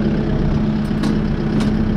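A Kubota M6060 tractor engine idles nearby with a steady, loud low hum and constant rumble, with no talking.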